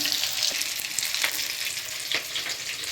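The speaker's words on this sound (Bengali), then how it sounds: "এই পকোড়াগুলো আমি ভাজলাম এখনই" Pakoras bubbling in hot oil in a kadai, a dense steady crackle with a few sharp spatters and stirring taps, heard alone without talk.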